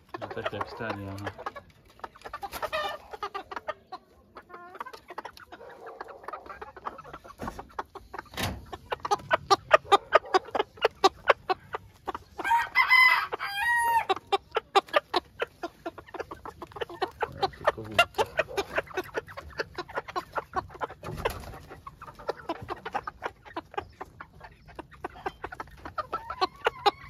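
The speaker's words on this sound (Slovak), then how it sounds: "Tie kohútiky." Young cockerels in a backyard flock cluck and make short crowing calls in uneven bursts, close by, with a person talking now and then among the birds.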